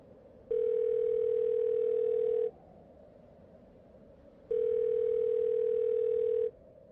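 Telephone dial tone, a steady pure electronic hum sounding in two identical two-second bursts separated by a pause, clean and alone over faint background hiss.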